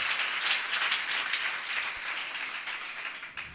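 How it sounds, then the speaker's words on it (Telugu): A church congregation claps loudly together in a dense, sustained burst of applause that fills the room evenly for a few seconds. "నమ్మిన వాళ్ళు గట్టిగా చప్పట్లు కొడుతూ దేవుని మహిమపరచాలి."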